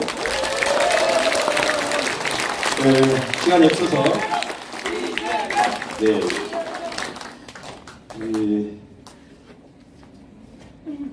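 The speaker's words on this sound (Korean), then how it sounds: "우리 이재명 대표에게 박수 한번 보내주시죠" Audience applause for Lee Jae-myung at a Korean political lecture event, a dense burst of clapping from a crowd mixed with a speaking voice throughout, fading out toward the end.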